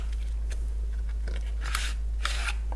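Apple Watch silicone case packaging torn open by hand in two bright, crackling bursts of paper and plastic, preceded by a few faint handling clicks, heard alone over a steady low hum.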